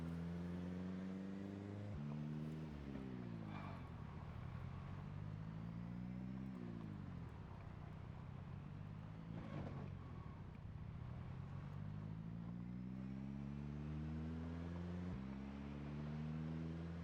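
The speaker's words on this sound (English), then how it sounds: "They'll still be able to hear the car." A car engine runs at a distance, faint and steady, its pitch rising and falling repeatedly as if revving or shifting gears, with no voices.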